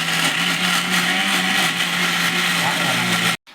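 A mixer grinder grinding masala spice paste with a little water, a loud, close, steady motor whir running continuously before cutting off abruptly at the end.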